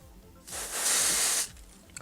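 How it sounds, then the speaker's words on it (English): A single sustained spray hiss from an airbrush foundation can, lasting about a second, bright and close, preceded and followed by quiet handling sounds. "you're supposed to just spray it right onto the brush"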